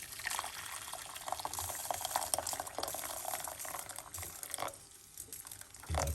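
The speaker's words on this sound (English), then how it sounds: "we're going to put 1 cup of hot water" Hot water pouring into a pot in a home kitchen, a steady splashing, gurgling stream at moderate loudness that tapers near the end, with no voices.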